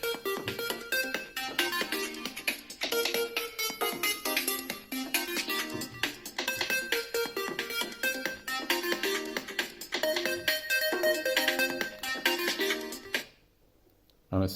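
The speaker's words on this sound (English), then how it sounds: "and my phone starts ringing." A phone ringtone triggered by the phone finder on a G-Shock GBD-H1000 watch plays as a continuous, fairly faint melodic tune for about thirteen seconds before cutting off.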